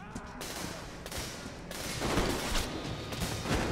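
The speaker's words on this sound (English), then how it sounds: "Those gunshots are very silent." Gunfire in the Metro Exodus video game sounds as a quick run of muffled, fairly quiet bursts and shots, spaced irregularly and heard at a distance.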